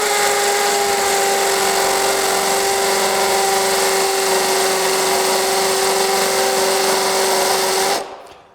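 A DeWalt Atomic compact 20V brushless 1/2-inch drill in hammer mode, fitted with a 1/2-inch bit, whines at a steady high pitch with a buzzing hammer rattle, running loud and close for about eight seconds before stopping abruptly.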